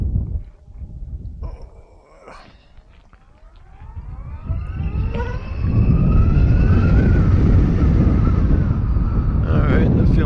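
A Harley-Davidson LiveWire electric motorcycle accelerates in sport mode, its electric motor whine rising steadily in pitch over several seconds as wind rush builds into a loud roar, with brief talk early on.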